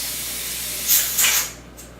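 Steam hisses steadily from a pressure canner while chicken is being canned, a continuous bright spray swelling in two louder bursts before easing to a softer hiss, close and without talk.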